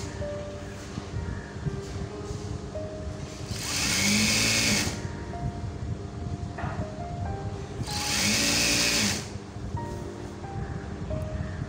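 A sewing machine runs in two steady bursts of rapid stitching along the folded edge of churidar fabric, loud and close, with a constant background hum between the runs.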